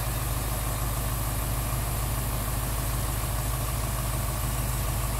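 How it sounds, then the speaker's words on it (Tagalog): A 2021 Ford Mustang GT with automatic transmission runs at a steady idle, a loud, even engine drone with constant low rumble and no change in pitch. "I-accelerate mo ba, Jim, yung makina?"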